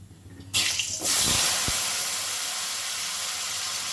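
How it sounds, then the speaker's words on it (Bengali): Cut potatoes drop into hot oil already sizzling with cumin, causing a sudden loud hiss that settles into a steady, strong frying sizzle with light stirring; close, with no talking. "ফোড়নটাকে একটুখানি নেড়ে নিলাম দিয়ে দিচ্ছি কেটে রাখা আলু"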